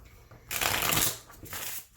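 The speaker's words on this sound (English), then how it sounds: "even though I trim them, they do still shuffle well because I use those measurements" A trimmed tarot deck is riffle-shuffled close up, giving a loud papery burst of about a second followed by a shorter second riffle.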